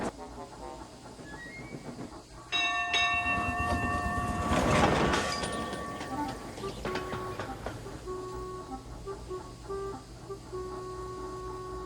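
Steam engine train rumbling and clattering along rails, starting quietly, then swelling into a loud close pass with steady tonal whistle-like hums and rhythmic clacking that trails off, no voices.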